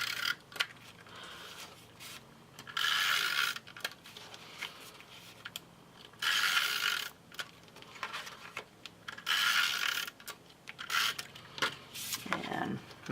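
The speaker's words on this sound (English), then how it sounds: "So let's do our tape runner." A tape runner adhesive dispenser is rolled across craft card in several rasping strokes, each a short burst of dry scraping with quieter pauses between, close and clear.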